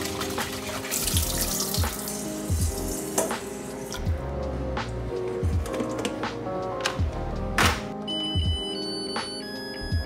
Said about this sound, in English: The first step is to wash Japanese white rice, and my mom taught me to rinse it out until the water runs clear